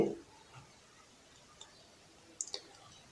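A few soft, sharp clicks while a link is shared through WhatsApp, spaced irregularly with a quick double click near the end, over quiet room background.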